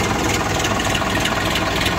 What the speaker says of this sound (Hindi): देख सको भाई ट्रैक्टर की साउंड चेक करो आप